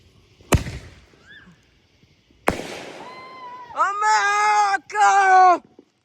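Backyard fireworks set off in a cul-de-sac for America's 250th birthday: two sharp loud bangs a couple of seconds apart, then a long tonal screeching whistle in two bursts, with voices reacting.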